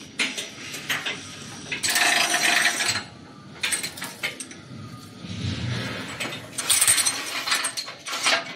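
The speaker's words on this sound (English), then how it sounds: "Mixer, belt, brick machine, stacker machine." An automatic hydraulic paver cement block making machine runs up close, with loud mechanical clanking, ratcheting and grinding bursts separated by short lulls, and no speech.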